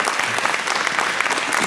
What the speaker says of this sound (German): Chidem, einen Applaus für Chidem.